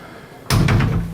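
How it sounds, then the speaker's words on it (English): A shower door inside a Bliss Mobil motorhome swings shut with one loud, close, solid thump and a short rattle as it settles, with no talking. "Here we have a shower, and if I close the door,"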